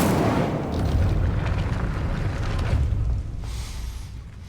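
A fiery spell blast cast in the game Hogwarts Legacy, a sustained rumbling whoosh with low booming body, loud and close, easing off near the end.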